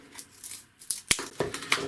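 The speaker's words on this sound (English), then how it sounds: "just take a pair of scissors," Several sharp snipping clicks of scissors cutting a battery, irregularly spaced over a couple of seconds against quiet background noise.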